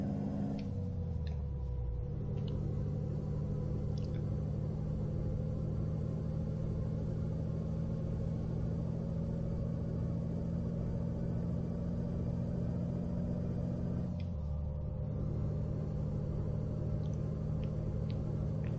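A heavy truck engine in American Truck Simulator rumbles low and steady as it climbs through its low gears, with two brief gear-shift dips, one early and one near the end, and no voices.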